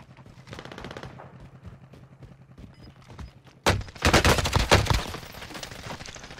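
Gunfire in the Warzone video game: faint distant shots tick in the background, then a close burst of rapid automatic fire erupts loudly, followed by further sharp volleys that taper off.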